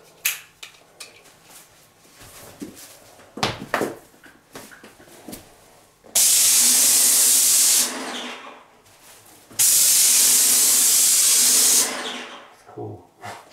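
A Wagner Control Pro 250M airless paint sprayer sprays in two loud, steady hissing bursts of about two seconds each, separated by a short pause, close by.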